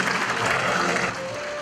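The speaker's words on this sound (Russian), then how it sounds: "Вновь ваши аплодисменты чемпионам спартакиады" A hall audience applauds champions of a workers' sports games in Barnaul, dense steady clapping that drops to a softer level near the end, with a faint sustained tone beneath.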